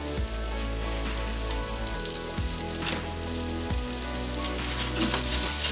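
Steak strips marinated in Dale's marinade sizzle steadily in an olive-oiled pan, a dense, continuous crackle with a few soft clinks, close and loud with no talking.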